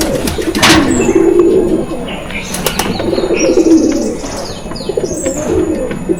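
Pigeons cooing in a pigeon loft, soft low repeated coos from several birds close by, mixed with brief wing flutters and faint chirps, with someone talking intermittently over them.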